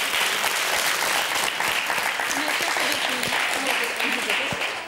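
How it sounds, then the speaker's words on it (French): Steady, dense applause from a television game show audience on Motus, loud and continuous throughout, with a voice speaking briefly over the clapping. "Allez, on vous applaudit très fort."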